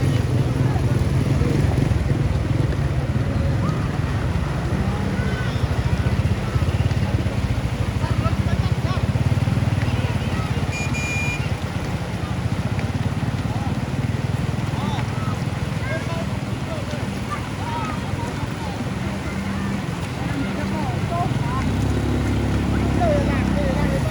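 Motorcycles ride across a flooded bridge in heavy rain, their engines droning continuously with the splash of water, while people talk over the noise.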